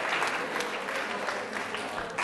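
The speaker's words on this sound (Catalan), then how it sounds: "Bueno, aplaudiment." Studio audience applause during a Catalan spelling game show, a steady wash of clapping filling the short stretch with possible voices mixed in.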